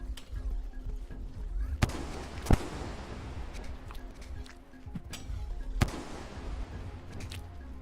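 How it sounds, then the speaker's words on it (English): Overlapping explosions in the video game Rain World, a dense crackling rumble punctuated by several sharp booms and pops at irregular intervals, moderately loud with no talk over it. "That sound when all the explosions are overlapping."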